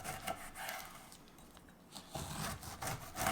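A knife slices down through a fresh pineapple, trimming off its top and bottom. The cutting comes as faint, short rasping strokes with a quiet pause in the middle, and no one talks.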